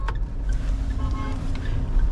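A Mahindra Thar 2025 idles just after starting, with a low, steady engine rumble close by and a few faint clicks and tones above it.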